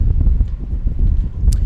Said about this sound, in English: the wind gusts right now, gusting at about 21 miles an hour